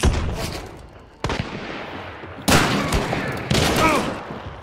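Gunfire in a shooting game: three sharp, loud bursts arrive about a second apart, each trailing into a noisy decay, with faint voices in between.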